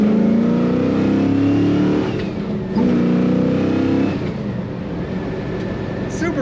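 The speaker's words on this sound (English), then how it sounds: "This is a 4-on-the-floor, 4-speed manual transmission." A 1967 Pontiac GTO muscle car with a 4-speed manual transmission accelerates from inside, its engine note rising through two gear changes with brief dips between pulls, loud and close throughout.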